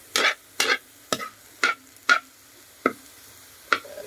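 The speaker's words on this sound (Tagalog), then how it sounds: "Haluin lang natin." Egg and banana blossom being stirred in a frying pan, about eight distinct scraping strokes in an uneven rhythm, close and fairly quiet, over near silence.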